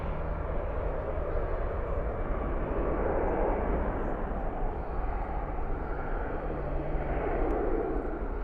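Alaska Airlines Boeing 737 MAX 9 jet taking off at night at DFW airport, a steady distant low roar of engines rumbling evenly without talk.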